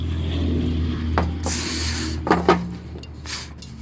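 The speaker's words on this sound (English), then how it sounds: "But we're just gonna spray this." Short bursts of spray paint hiss from an aerosol can onto a John Deere L110 lawn tractor, a few quick puffs, close by, with a low steady hum underneath.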